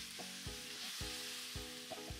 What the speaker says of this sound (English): We'll now add our marinated beef and let it fry until it loses most of its juice.